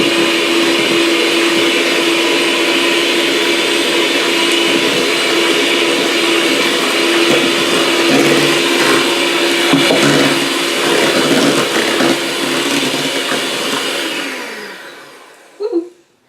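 An electric mixer whirs loud and continuous through persimmon pudding batter, a steady motor drone that winds down and stops near the end with a short knock.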